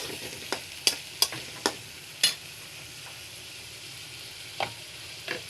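Boiled potatoes and fried egg sizzle softly in a pan, with a handful of sharp spatula scrapes and taps spread across the stretch and no talk.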